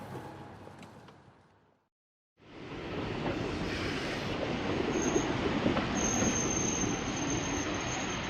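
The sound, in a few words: train running on rails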